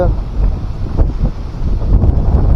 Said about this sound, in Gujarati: પવન પણ આજે વધારે છે